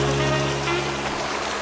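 A small forest stream flows along a jungle trail toward Kokor waterfall in Lewomada, a steady close burble and wash of water under a faint tonal hum from music or electronics.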